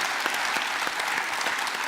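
An audience claps at a New Year's greetings ceremony, a brief burst of dense, steady applause heard up close.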